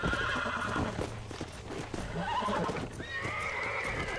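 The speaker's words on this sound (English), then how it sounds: "Ah, do céu, o cavalo é bravo." A wild horse being broken in Red Dead Redemption, neighing and whinnying loudly over restless hoofbeats, close and continuous.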